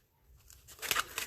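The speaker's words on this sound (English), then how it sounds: "But you want to cut slits. You want to make sure that you go all the way through." Scissors snipping slits through material while cleaning brushes, a brief close pair of crisp cuts rising out of near silence.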